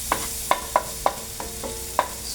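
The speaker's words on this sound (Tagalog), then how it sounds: "Habang pinag-fry ang garlic, ilagay natin ang locos or squid" Garlic and squid fry in a pan while a utensil stirs them, producing about six sharp scraping clicks at irregular intervals over a steady background sizzle, close up, with no talking.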